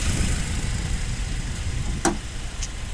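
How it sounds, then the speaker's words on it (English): A 2016 Nissan Frontier SV King Cab pickup with a four-cylinder engine and manual transmission idles with a steady low rumble, a couple of brief clicks cutting in near the end. "This is a Nissan Frontier pickup truck. Now, as you can see in here, it starts up."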